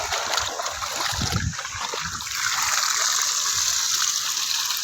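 Steady rushing irrigation water from a stream flows continuously onto an eggplant field, fairly close, with a few splashy surges and no voices.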